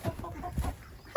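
A rescued hen from a large commercial chicken house makes low, murmuring clucks close by, ending in a sharper, louder cluck.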